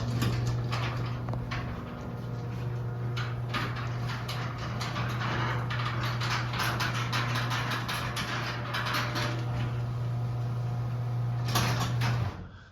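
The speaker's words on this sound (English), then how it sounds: "We'll run the Chamberlain door down" A Chamberlain C2102 garage door opener drives a creaky door down, its steady motor hum running throughout under repeated squeaks and rattles from the door, then stopping at the end.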